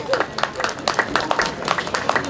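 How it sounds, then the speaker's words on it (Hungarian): Scattered clapping from an audience at a village Christmas event in Kisoroszi, steady and moderately loud throughout, with some crowd murmur mixed in. "Tapsot kérek szépen gyönyörű babánknak!"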